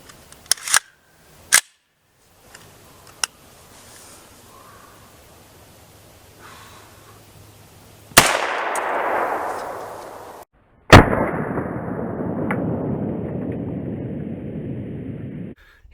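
A 300 Blackout pistol fires two loud, sharp shots a few seconds apart. Each crack is followed by a long, fading rumble, after a few faint clicks and handling noises.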